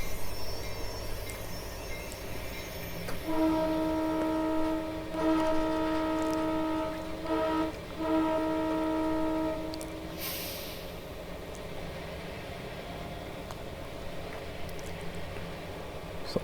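An NdeM G12 diesel locomotive horn in Train Simulator Classic blares in several sustained multi-tone blasts with short breaks, over a quiet engine background.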